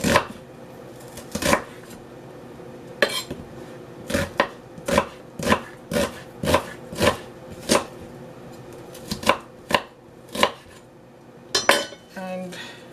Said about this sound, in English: So now I am going to start with my onion. I'm going to chop them up nicely.